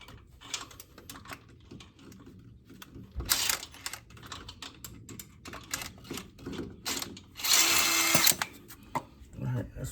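A cheap power drill bores holes while front coilovers go onto a Buick Grand National, heard as two short, loud whirring bursts among quieter shop handling noises.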